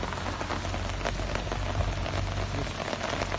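Steady rain falls on street surfaces in Zalău, a dense, even patter and hiss of drops hitting pavement, close and continuous with no voices.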